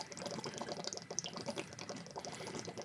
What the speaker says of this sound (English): Now there's water pouring out of the tankless into the bucket